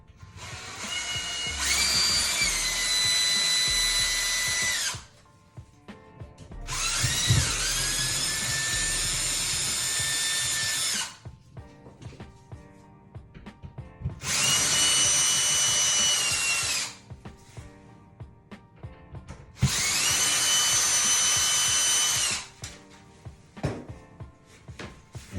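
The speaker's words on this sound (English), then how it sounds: "to drill out the screw." A power drill drilling out a screw whines loudly in four bursts of several seconds each, with short pauses of quieter rattling between them.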